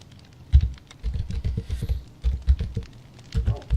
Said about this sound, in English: So I don't have to keep typing this in.